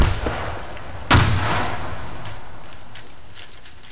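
A grenade explosion in a video game, one loud sharp blast just after the one-second mark whose rumbling tail fades slowly, following a smaller bang at the start.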